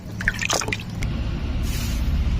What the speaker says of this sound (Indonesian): Kalau sudah larut tinggal kita siram saja teman-teman